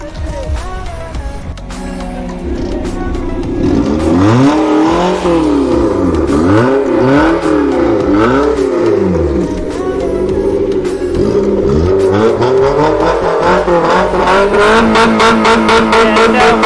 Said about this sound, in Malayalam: ഇതിന്റെ എക്സോസ് നോട്ട് എനിക്ക് ഭയങ്കര ഇഷ്ടപ്പെട്ടു